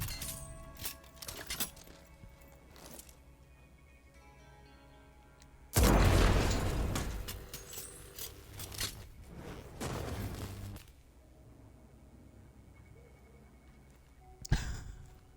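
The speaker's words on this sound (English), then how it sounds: "Guess the fireworks are made with love and care." Fireworks explode in the video game Deathloop: a loud crackling burst around six seconds, further crackles and bangs near ten seconds and a sharp pop near the end, with quieter game ambience in between.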